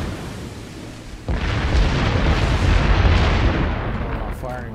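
Naval guns firing high-explosive shells in World of Warships from the Worcester cruiser, a loud sustained rumbling barrage that starts abruptly and rolls on with heavy low booms, with a voice talking over it.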